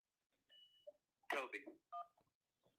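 Telephone keypad dialing tones on a radio call-in show as a caller is put through, a few short beeps followed by a brief burst of voice and another tone, fairly faint.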